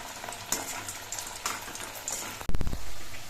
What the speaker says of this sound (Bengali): আমি পাঁচটা গজা একসঙ্গে ভেজে নিচ্ছি